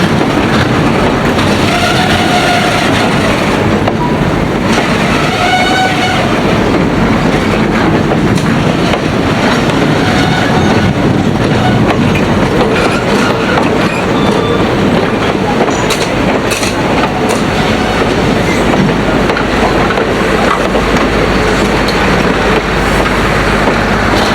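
A freight train passes close by with a caboose at the wrong end, its wagons rumbling and clicking steadily over the rails for the whole stretch, loud and continuous with brief faint squeals.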